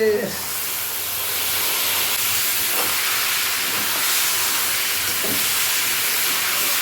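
Chicken goes into a hot pan with green chillies, crushed ginger and garlic, asafoetida and turmeric, setting off a loud, steady steaming hiss and sizzle that carries on for several seconds with a few faint knocks underneath.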